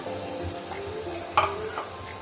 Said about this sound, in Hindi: अभी थोड़ा सा जरा इसको भूनेंगे ताकि इसकी स्मेल खत्म हो जाए